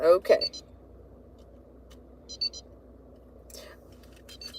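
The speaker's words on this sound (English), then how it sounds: "Sorry about the little beeping there." A few short electronic beeps in quick clusters, fairly quiet, with a brief spoken word at the start.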